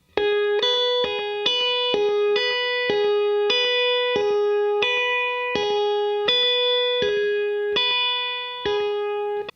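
Slide guitar scale played note by note with thumb and finger picking, each note cut short as the next one sounds, giving a clean, evenly spaced run of separate plucks over about ten seconds.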